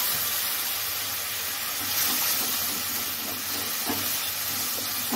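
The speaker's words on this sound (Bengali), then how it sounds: "মশলাটা আমি ভালো করে সাঁতলিয়ে নেব।" Cumin and turmeric spice paste frying in oil for a rohu fish curry, a steady broadband sizzle and hiss running throughout at moderate level with faint clinks of stirring.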